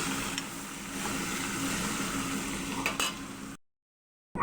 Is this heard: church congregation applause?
no